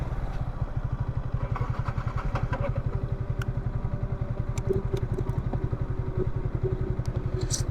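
A Yamaha R15 V3 motorcycle cranks without catching, its starter churning in a steady rapid chugging pulse that goes on and on, close and loud, with a few faint clicks over the top.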